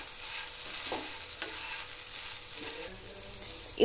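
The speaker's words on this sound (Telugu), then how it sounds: "ఇప్పుడు ఫ్రై చేసుకుందాము।" Egg noodles stir-fried with garam masala and noodle masala in a pan, giving a steady sizzle with a few scraping stirs of the spoon and a sharp knock near the end, close and moderately loud, with no voices.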